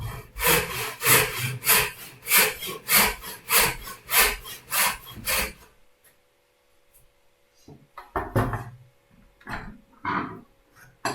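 A handsaw cuts wood for a toy train in quick, even back-and-forth strokes for about five seconds, then a pause and a few scattered scraping sounds.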